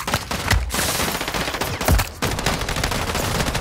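Rapid automatic gunfire in a Call of Duty firefight, loud close bursts of overlapping shots with a couple of heavy thuds, continuous and dense from start to finish with no speech.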